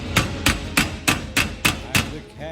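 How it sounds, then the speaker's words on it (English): Seven sharp hammer blows strike a garage door roller to drive it back into its metal track, evenly spaced, loud and close, with a faint metallic ring after the last hit. "If you have to hit it with a hammer, you can."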